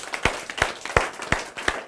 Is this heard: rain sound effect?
no